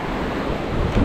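Ocean waves wash steadily onto Fort De Soto Beach, a brief, continuous rushing surf with wind noise and no voices.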